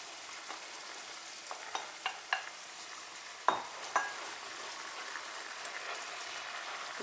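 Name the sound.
onion and mushroom frying and being stirred in a pan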